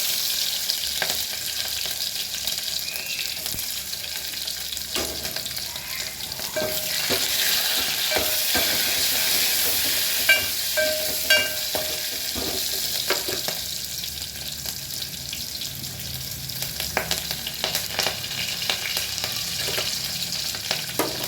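Garlic and cumin seeds fry in mustard oil and are stirred, giving a steady bright sizzle with scattered spoon scrapes and taps against the pan, close and continuous with no speech.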